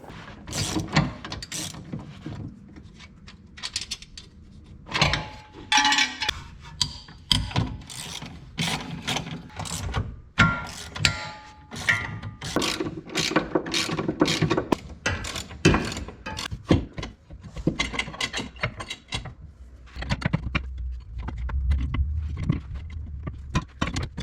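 Ratchet wrench clicking and mechanical work on the rear axle of a BMW E46 drift car, a dense run of close, repeated ratcheting clicks and metallic clanks with uneven rhythm, no talking.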